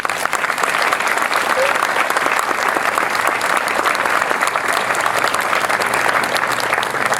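A theater audience at a gala opening and 9/11 commemoration gives loud, sustained applause for a New Bern Fire Rescue deputy chief and his firefighters, a thick continuous roar of clapping from many people.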